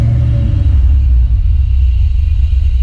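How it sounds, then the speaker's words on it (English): Foxbody Mustang with a Terminator swap and VMP supercharger, its intake roaring as a loud, steady, close low rumble that holds without break and with no talk over it. "I love how your intake is ridiculously loud."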